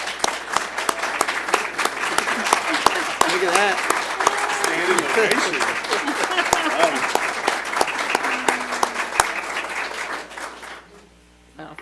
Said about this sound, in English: join me in a round of applause for our school board